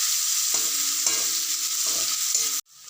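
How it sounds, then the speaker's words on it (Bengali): Three medium chopped onions fry in hot oil with a continuous bright sizzle and a few soft low knocks beneath it, until the sound cuts off abruptly near the end. "মাঝারি সাইজের 3টে পেঁয়াজ কুচি তেলের মধ্যে দিয়ে দিলাম"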